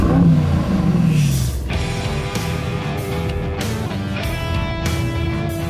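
A powerful 600-horsepower car cruising on a highway gives a steady engine drone over continuous road and wind rumble, with tones shifting as it accelerates; no one speaks.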